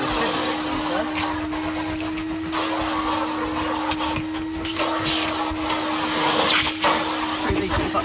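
A vintage 1991 Numatic NV380 vacuum cleaner runs in a shed with a steady motor whine and airy rush, close and continuous, with suction noise shifting slightly as it cleans.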